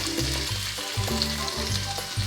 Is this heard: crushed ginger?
yes